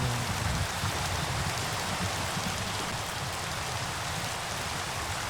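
Steady rain in a shader demo falls continuously, a dense, even hiss of drops with a low rumble beneath, holding at constant loudness with no talk.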